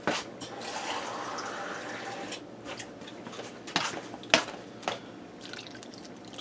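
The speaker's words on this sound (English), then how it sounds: "And then I'm going to put a can of water in there." Water poured from a can into a tomato-soup casserole in a Copper Chef XL pan, a soft steady splashing pour followed by several sharp drips and clinks, fairly quiet and close.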